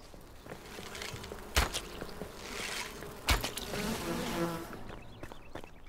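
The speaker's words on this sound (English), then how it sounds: "I'm not quite sure why those bees were after me" Bee swarm buzzing in the survival game Enshrouded, a steady insect drone throughout with two sharp thuds of footsteps or impacts and no talking.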